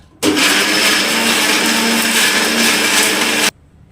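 A mixer grinder jar grinds masala of tomato and onion for egg sambar, giving a loud, steady whirring roar that starts abruptly, runs about three seconds with no talk, and cuts off sharply.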